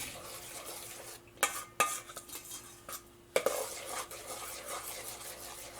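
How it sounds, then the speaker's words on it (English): Flaked coconut is stirred by hand into a gluten-free coconut cheesecake batter, giving soft scraping and sloshing with a few sharp clinks of utensil against bowl, close up and with no talk. "I'm going to add and stir by hand 1 cup of coconut, flaked coconut"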